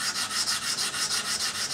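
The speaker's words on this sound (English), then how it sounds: "Now I'll show you what I've done for sanding it." An electric trolling motor part is sanded by hand on 220-grit sandpaper, with steady rhythmic back-and-forth rubbing strokes, close and fairly loud, with no speech.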